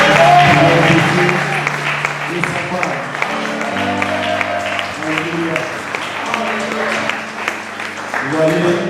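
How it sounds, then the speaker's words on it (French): A church congregation claps and cheers in praise during a worship service, steady, loud applause filling the room with voices and sustained tones running beneath it. "On acclame le Seigneur Jésus."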